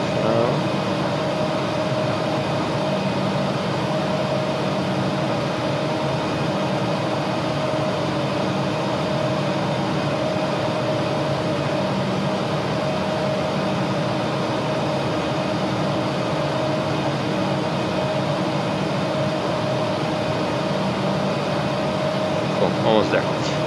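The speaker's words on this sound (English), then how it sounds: "You can also hear vacuum and the APU being turned off" Embraer E190 auxiliary power unit winding down inside a flight simulator game, a steady mechanical whine and airflow hum with a constant tone, continuous and even throughout.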